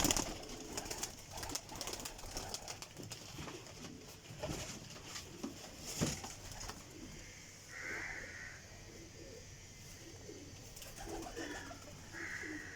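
Pairs of Chapra pigeons cooing in a loft, soft low burbling coos repeating close by amid flutters and light rustling, with brief higher bird calls in the background.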